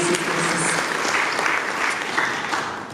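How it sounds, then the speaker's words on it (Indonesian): A church congregation applauds together in praise, a dense, steady wash of clapping that fills the space at an even level with no voices rising above it. "Beri tepuk tangan yuk buat Tuhan kita Yesus Kristus."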